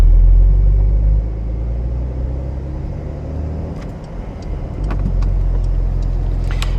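Porsche 911 992 4S with a seven-speed manual gearbox pulling away from a stop, a deep, steady engine rumble from inside the car, easing slightly before building again.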